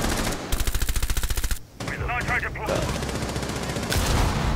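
Rapid automatic gunfire in the tactical shooter Rainbow Six Siege, a steady burst of close, loud shots followed by more mixed firing and game effects, with a player talking underneath.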